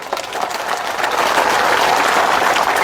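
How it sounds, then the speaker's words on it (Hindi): A crowd at a political rally in Jammu applauds, the clapping rising quickly into a loud, dense, sustained roar of many hands. "मैं चाहना कि तालियां भी जोरदार बजे।"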